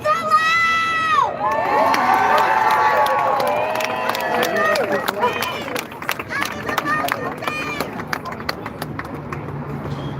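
A protest crowd outside a school board headquarters cheers and shouts, with high excited voices and whoops rising loudly at first, then scattered claps and shouting continuing at a busy, slightly lower level.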